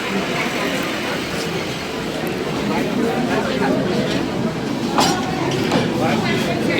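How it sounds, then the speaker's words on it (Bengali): Darjeeling toy train pulling into a station, a continuous rumble and rattle of the carriages with occasional metallic clinks, heard over people talking nearby. "ট্রেন ঢুকছে স্টেশনে।"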